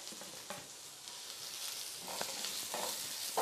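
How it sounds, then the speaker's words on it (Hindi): Chopped onion and green chillies fry on a low flame in a pan with garlic paste, giving a steady soft sizzle with occasional stirring taps, fairly quiet and without speech. "अब हम इसके अंदर प्याज डाल देंगे और हरी मिर्च डाल देंगे।"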